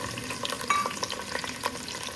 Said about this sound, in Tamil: எண்ணெய் காஞ்ச உடனே ஒரு 100 கிராம் சின்ன வெங்காயத்தை நீல வாக்கில் கட் பண்ணி போட்டுக்கோங்க